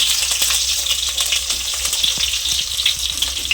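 Three sprigs of curry leaves sizzle and pop in hot oil for a sweet bitter gourd curry, a close, continuous crackling fry with scattered sharp spits and no voices.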